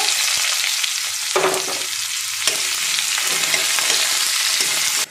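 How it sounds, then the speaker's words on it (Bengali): Chopped onion hits hot oil alongside frying peanuts, giving a loud, steady sizzle with occasional scraping and stirring clatter close by, and no voices. "এবার আমি পেঁয়াজ কুচিটা দিয়ে দেব।"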